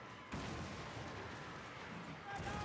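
Mortar fire rumbles and booms in a Warhammer battle: a dense, continuous wash of distant artillery blasts, fairly quiet overall, with battlefield noise and a voice mixed in.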